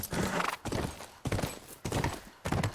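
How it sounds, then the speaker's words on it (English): Galloping horse in The Last of Us video game, heavy rhythmic hoofbeats in repeated bursts, loud and close, with no talk over them. "The timing for that is when you hear Joel gallop the horse"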